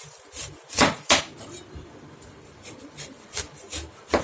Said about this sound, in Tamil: இந்த மாதிரி பழத்தை வந்து ரெண்டாக கட் பண்ணிக்கலாம்